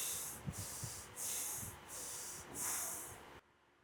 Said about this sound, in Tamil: ஒரு 3 முறை மூச்சை உள்ளெழுத்து மூச்சை வெளியே விடுங்க.